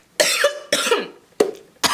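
A young woman coughs several times, close and loud, with harsh bursts in a broken rhythm separated by short silences. Nobody talks.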